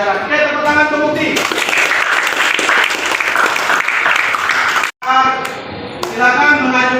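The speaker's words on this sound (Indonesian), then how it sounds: "tepuk tangan untuk Mukti." Classroom applause at a junior high school as students clap for a classmate, a dense burst of many hands lasting several seconds before fading, with a voice speaking at the start and again near the end.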